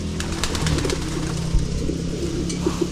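Pigeons coo softly and repeatedly from a loft, with low warbling calls over steady background noise.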